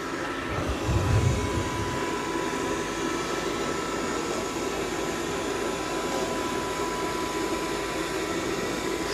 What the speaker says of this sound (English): I just kind of quickly vacuumed this little area real quick